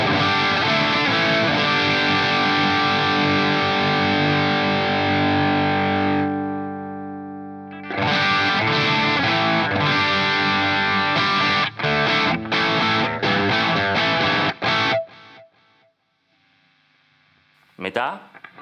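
An electric guitar runs through a Soldano distortion pedal with the gain at maximum, giving thick, saturated sustained chords followed by a run of choppy strummed stabs. A brief noise near the end follows a short gap.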